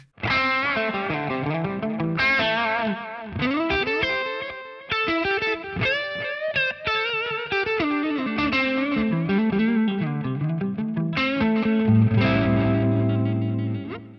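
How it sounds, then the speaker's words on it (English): Electric guitar played through a NUX MG-400 modeller with light grit and a tape-style echo, using a Vox AC15-style amp model with a small plate reverb; melodic phrases ring out steadily with repeating echoes, ending on sustained chords. "the third scene adds a little bit of this tape style echo on here."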